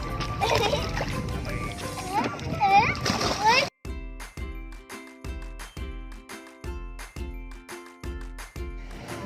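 Waves splash and slosh around people bathing in the sea, with children shouting and talking over the water before the scene cuts to music.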